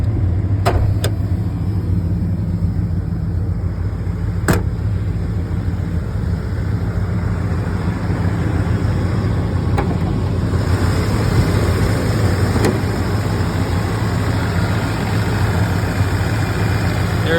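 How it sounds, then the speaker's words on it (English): A 1986 Ford truck's 7.5-liter 460 V8 idles in a steady, deep drone with a low rumbling hum, a few faint clicks breaking through the continuous engine note. "listen to the engine here"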